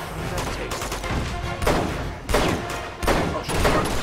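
Gunfire in the video game Uncharted 2 comes as repeated bursts of sharp shots over a steady game backdrop, fairly loud and close, with a few heavier volleys spaced through.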